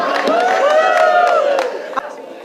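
A battle rap crowd at a Fliptop event erupts in loud cheering, whoops and shouting, a dense close roar that fades toward the end.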